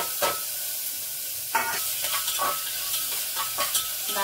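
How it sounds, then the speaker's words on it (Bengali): Onion, garlic and green chilli frying in a pan for an egg curry, with steady sizzling and several distinct scraping stirs of a spatula spaced through the clip, close and clear with no talking. "নাড়াচাড়া করে নিচ্ছি, একটু ভাজা ভাজা হয়ে এসছে"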